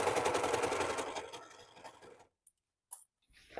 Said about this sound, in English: we're going to sew this right along here